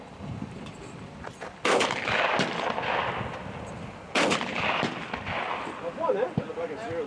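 Shotgun blasts ring out at thrown clay targets outdoors, two sharp reports about two and a half seconds apart, each trailed by a rolling echo, with people talking faintly in the background.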